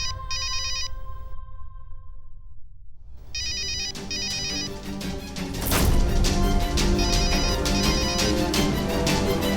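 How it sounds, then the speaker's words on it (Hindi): A mobile phone rings with an incoming call, a repeating electronic ringtone pattern that stops briefly and then resumes, joined by a louder musical swell and dramatic background score. "नानी का फोन आ रहा है"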